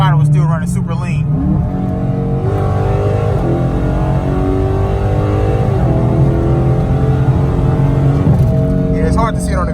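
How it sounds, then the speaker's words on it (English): A car engine on E85 fuel revs hard through a wide open throttle pull, a loud continuous roar with rising harmonics and brief shifts, heard up close and alone throughout. "I'm about to do a pull to see if my wide open throttle was still running super lean."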